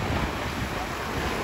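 Mediterranean Sea waves wash steadily against the shore, a continuous broadband roar mixed with heavy wind buffeting on the microphone, loud and close throughout with no voices.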